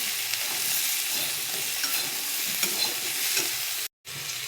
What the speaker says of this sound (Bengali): নুন, হলুদ, ধনে গুঁড়ো আর জিরে গুঁড়ো সব একসঙ্গে দিয়ে দেবো, দিয়ে একটু কষাবো।